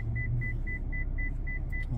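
A car's parking sensor alarm sounds a rapid, evenly spaced series of short high beeps, loud and close inside the cabin over a low engine rumble.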